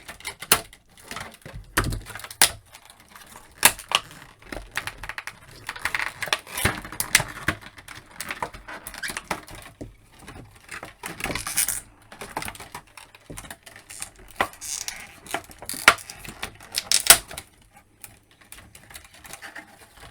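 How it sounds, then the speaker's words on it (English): Scissors snip and crunch through brittle, sharp plastic packaging from an N2 Toys Mad Max action figure, making an irregular series of close cracks and rustles with no pause. "Let me cut through it instead."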